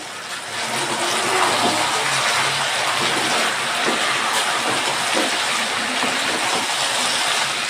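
A small amount of water pouring steadily into a cooking pot of fish-head curry with Malabar spinach seeds, a constant close splashing rush that holds at an even level.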